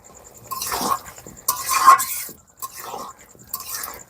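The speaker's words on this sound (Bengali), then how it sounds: "এটা দিয়ে আমি কিছুক্ষণ সুন্দর করে কষাই করে নিব" Deshi chicken stirred and sautéed in a pan with stone-ground cumin, cardamom and cinnamon paste, giving four short scraping, sizzling bursts separated by brief pauses, close and moderately loud.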